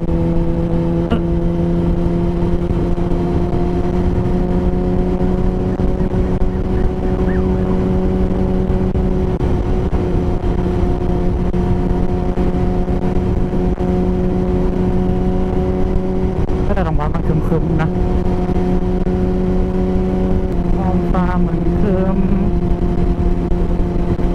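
A Kawasaki ZX10R motorcycle on a relaxed evening ride gives a steady, loud engine drone with a constant pitch, a small pitch shift midway and wind rush throughout, while a rider talks intermittently over it.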